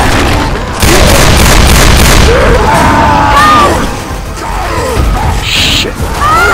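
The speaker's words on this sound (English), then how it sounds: "Stop shooting me!" Video game gunfire from an online shooter crackles in loud bursts and booms throughout, with several sharp reports over a dense, noisy battle bed and a few brief tonal in-game effects.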